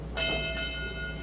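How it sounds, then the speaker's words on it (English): A single bell struck once as a memorial toll at a US submarine veterans' meeting in San Diego, a sharp ringing strike followed by a long, steady, fading hum, with a faint second shimmer partway through. "Bell ringer, please strike a toll for the following boats."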